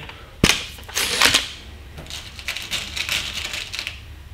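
Snowpeak SR1200S air rifle firing a pellet outdoors: one sharp crack near the start, followed by a brief clatter and rustling handling noise, close and fairly loud.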